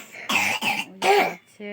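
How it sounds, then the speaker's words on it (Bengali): A sick child coughs close by in a house: three or four harsh bursts in quick succession, followed by a brief voiced sound. "একজনের তো কাশি হয়েছে"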